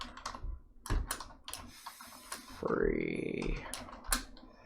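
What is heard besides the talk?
typing on a computer keyboard balanced on a stool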